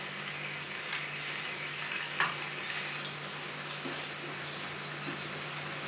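Onion, ginger and garlic frying in a pan for malai paneer masala, a steady close sizzle with faint stirring scrapes, no talk.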